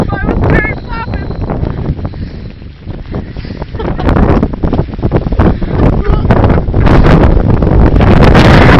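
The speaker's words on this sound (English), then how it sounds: "Really windy out here." Strong Hurricane Sandy wind roars outdoors and slams the microphone in loud, continuous gusts that build toward the end, with voices faintly mixed in.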